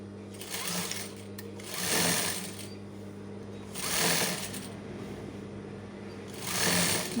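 A sewing machine stitches a kutchi bag in three whirring bursts, each rising and then easing back to a steady low mechanical hum, heard close and without voices.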